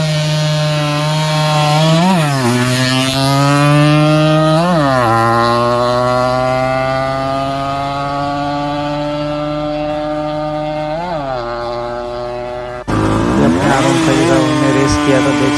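A Yamaha RX100 motorcycle engine running loud and close, revved several times with rising and falling pitch, then a sudden shift to a harsher roar.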